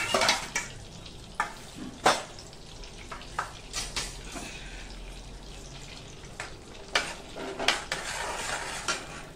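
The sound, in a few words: butter melting in a pan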